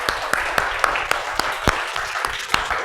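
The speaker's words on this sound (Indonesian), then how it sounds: "Tepuk tangan" Students clapping in a classroom, a dozen or so sharp claps in a quick, fairly regular rhythm over a rustling room background, close and moderately loud.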